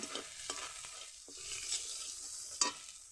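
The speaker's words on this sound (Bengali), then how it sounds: "একটুখানি নেড়ে নিলাম" Fish curry masala with salt and turmeric is stirred in a pan, with soft scraping strokes and a faint sizzle, quiet and close.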